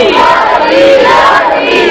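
A loud crowd at an Eid Milad religious gathering shouts slogans back in unison, a dense, roaring wave of voices filling the whole stretch.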